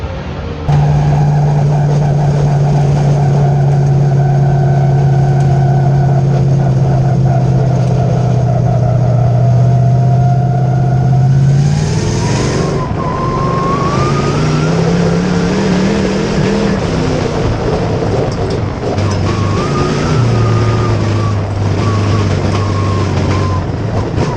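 A sport mod race car engine at Midway Speedway, running rough with spits and sputters, drones loud and steady for about twelve seconds, then shifts pitch, rising and falling as the car circles the track.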